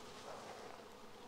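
Honeybees buzz at a hive fitted with a pollen trap among rockrose shrubs, a faint continuous drone, steady and somewhat distant, with no talking.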